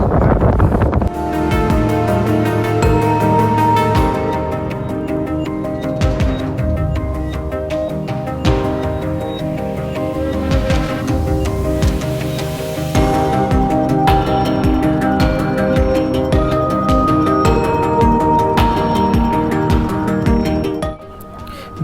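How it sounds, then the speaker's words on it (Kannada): A strong wind howls across the Mullayanagiri mountain peak. It roars and buffets the microphone loudly and without a break for the whole stretch, with short gusts and rumbles. "ಸುಯ್ ಅಂತ ಗುಡುಗುವ ಗಾಳಿ"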